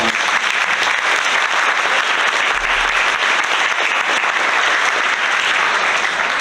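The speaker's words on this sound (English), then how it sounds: "Give them a big round of applause" Audience at a Sitka Chamber of Commerce gala giving a big round of applause: loud, dense, unbroken clapping from a large crowd that holds steady throughout.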